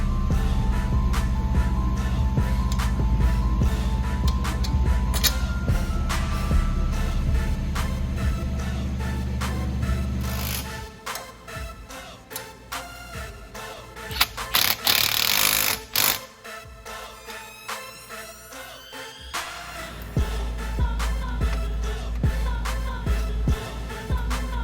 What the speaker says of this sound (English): what we're gonna do is cut a slot in the bracket so that the e-brake can go through